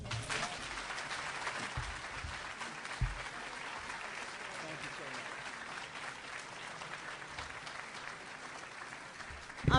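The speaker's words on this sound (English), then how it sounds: "Let's give him another hand of applause." Sustained applause from a large audience, a dense steady clatter of clapping for about ten seconds.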